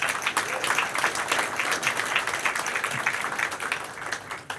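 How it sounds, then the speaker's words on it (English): An audience at a transit electrification forum applauds for Hal Johnson, a dense, steady wash of many hands clapping throughout, loud and close without any break. "this deserves a round of applause"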